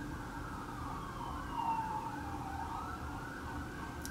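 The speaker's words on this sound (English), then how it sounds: "It's windy and there's ambulance." A faint ambulance siren wails in the distance over steady wind noise.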